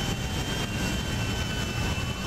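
Airplane taking off in GTA 5 at an airport, a loud continuous jet engine roar with a high whine layered on top, sustained throughout without talk.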